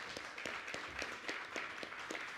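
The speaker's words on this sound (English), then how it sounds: "Give them a round of applause, please" Steady applause at a live tech learning event as an audience welcomes two guests, made of many hands clapping in an even, moderately loud rhythm that holds for the whole stretch.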